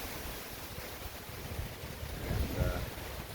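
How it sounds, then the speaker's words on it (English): Hurricane Ian's 70 to 80 mph winds roar steadily as a broad, rushing noise with gusty low-end buffeting on the microphone, swelling louder near the end. "We are getting about 70 to 80 mile an hour winds right now."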